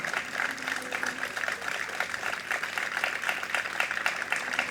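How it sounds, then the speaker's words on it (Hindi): An audience applauds to welcome a doctor at a Jain religious question-and-answer gathering with Muni Pramansagar, a steady, dense patter of clapping that holds at an even level throughout. "आप लोग जोरदार तालियों से डॉक्टर साहब का अभिनंदन कर दें।"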